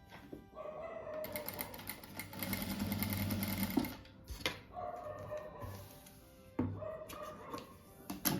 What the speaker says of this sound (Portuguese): Daí aqui eu reforço a costura do lado aqui para não ficar desmanchando sem retrocesso.